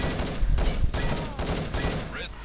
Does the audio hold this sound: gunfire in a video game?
yes